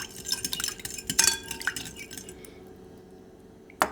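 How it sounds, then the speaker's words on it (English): A spoon stirring a mixture to dissolve it in water, with a few light clinks against a bowl or glass and a soft swirl of liquid, close and short. "And we just dissolve and mix."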